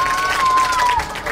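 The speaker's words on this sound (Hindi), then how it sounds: "तालियां बजाइए" An audience claps briefly in a studio quiz show, a short dense burst of applause with faint voices underneath.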